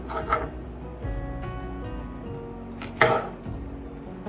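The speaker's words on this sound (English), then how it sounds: "I'm just going to roughly chop these into the container. Just slice them up." A knife roughly chops a mix of chili and jalapeno peppers on a board, giving scattered, moderately close cutting thuds and taps with brief pauses between strokes.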